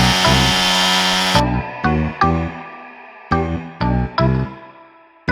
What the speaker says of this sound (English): he's got the chainsaw, he's gonna head up there and start cutting it down